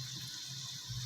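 Water running steadily into a pot of about a kilogram of rice with chickpeas and spice masala for chana pulao, a continuous close splashing pour with no talk.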